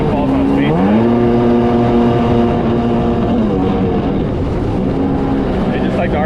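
Seadoo XP Limited 951cc jet ski engine running loud and close, its drone sagging as the RPM falls off and bogs, then steadying with a slight rise near the end.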